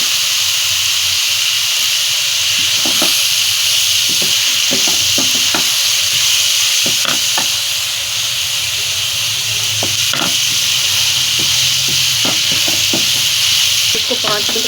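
Chana dal frying in a pan, a loud continuous sizzle and hiss with repeated scraping taps from a spoon stirring close up, no voices.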